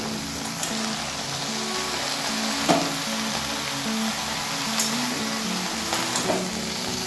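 Sliced potatoes and bottle gourd greens sizzle steadily in a hot pan while being stirred, with a few soft scraping clicks over a continuous frying hiss.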